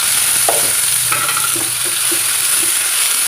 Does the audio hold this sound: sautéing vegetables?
yes